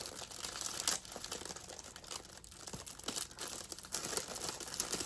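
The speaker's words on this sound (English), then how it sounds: "I'm just going to go in here and just take this tape. And tape it to the top of this box." Adhesive tape is pulled off the roll and pressed onto the top of a gift box, giving a close, uneven crinkling with a few sharper tearing rasps and no talk.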